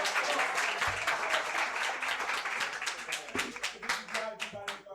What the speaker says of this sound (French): Allez, on applaudit.